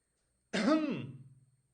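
A single close cough with a throaty, rasping quality that trails off into a brief rattling fade, alone against silence.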